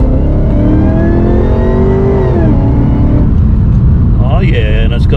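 A supercharged VF HSV R8 Clubsport engine revs hard and close, a sustained rising and falling roar that holds throughout, with a sharper flourish near the end.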